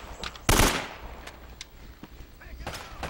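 Gunfire in the video game Uncharted: Drake's Fortune, with one loud, sharp burst followed by scattered fainter shots and clicks, while a player's voice is briefly heard.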